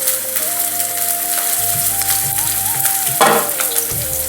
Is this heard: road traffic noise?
no